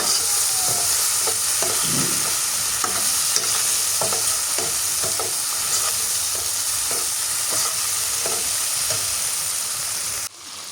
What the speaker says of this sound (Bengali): মশলাটা কষাই নিলাম